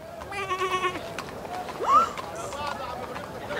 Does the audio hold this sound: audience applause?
no